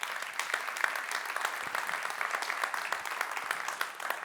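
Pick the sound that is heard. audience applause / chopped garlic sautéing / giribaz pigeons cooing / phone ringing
audience applause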